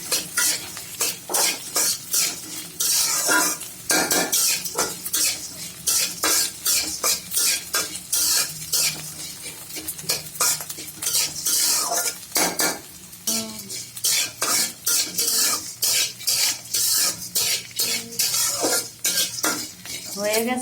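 Cooked rice is stir-fried in a pan, puffing up like puffed rice. A utensil scrapes and stirs it again and again against the pan over a steady sizzle, close and busy, with no talking.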